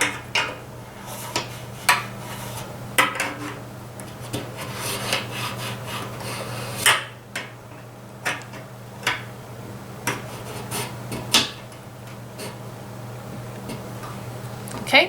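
Rotary valves are slid back into the casings of a horn after greasing, producing a series of sharp metallic clicks and scraping rubs at irregular intervals, close and fairly clear, with no talking.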